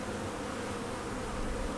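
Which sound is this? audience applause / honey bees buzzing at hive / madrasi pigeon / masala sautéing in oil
honey bees buzzing at hive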